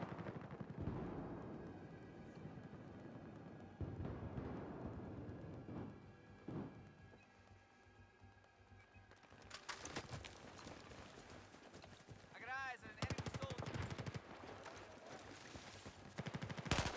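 Gunfire from the video game Battlefield 4, with bursts of rapid shots and a few louder blasts that get sharper and denser in the second half, heard over a steady game background.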